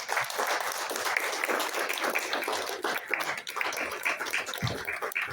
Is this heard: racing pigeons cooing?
no